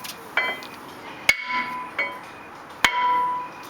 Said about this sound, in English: So I've got a hammer, and we're just going to whack it.